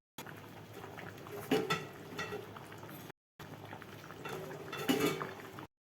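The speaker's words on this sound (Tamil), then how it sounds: "ஆனால் எப்படி கொதிக்குது பாருங்க" Vegetable biryani simmering in a clay pot over a low flame, lid three-quarters closed, giving a steady close bubbling and light patter with faint clinks, in two short stretches.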